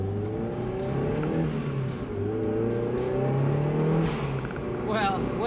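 A turbocharged Mazdaspeed Miata fitted with new Insane Shafts axles pulls away from a stop sign onto a main road, its engine droning and climbing in pitch through the gears, heard from inside the car with some speech over it.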